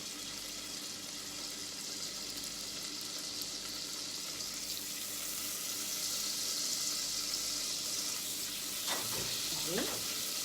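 Two spoonfuls of butter sizzle quietly in a pan, a low, steady hiss that swells slightly midway, followed by a couple of brief clinks near the end.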